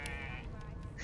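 A single short goat bleat from Divinity Original Sin 2, a quavering, nasal cry lasting about a second and heard fairly faintly.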